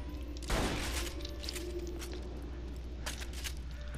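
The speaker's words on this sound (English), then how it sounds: "I kind of like that, that the shotgun I'm using right now." A shotgun blast in the video game Borderlands 2, one sharp burst of gunfire followed by a lingering game ambience and a few faint secondary pops.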